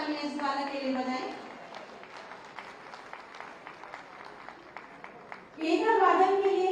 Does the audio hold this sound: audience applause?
yes